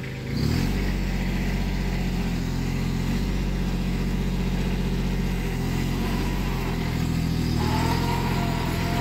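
A small Kubota 4x4 tractor runs a small rotavator in a sugarcane field, its engine droning loud and steady throughout with a slight rise in revs near the end.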